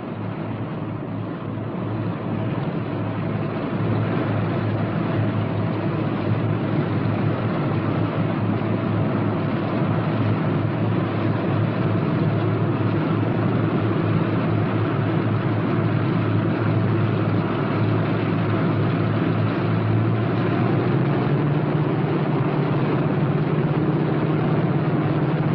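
The propeller engines of a P-61 Black Widow drone steadily at close range while taxiing, a continuous low throbbing hum that shifts slightly in pitch, with no voices.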